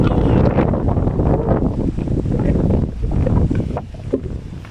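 Strong wind roars and buffets the microphone steadily throughout, with a faint voice briefly audible beneath the gusts.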